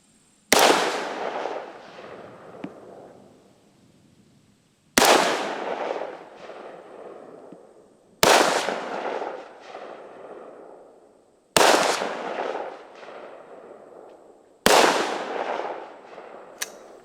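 Five sharp rifle shots with cheap ammunition fired one at a time about three seconds apart, each a loud close crack followed by a decaying echo, with no talking.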